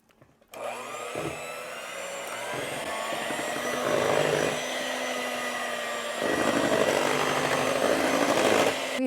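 Electric mixer whirring through pecan pie filling of dark corn syrup, sugar, salt and eggs, a steady motor drone that starts abruptly and swells louder at intervals as the beaters work the bowl.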